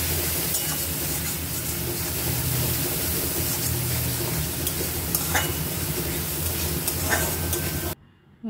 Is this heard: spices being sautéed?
yes